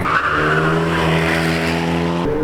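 Car racing downhill on a go-kart track; a loud, close engine holds a high, steady whine with tire noise over a couple of seconds, with no talk.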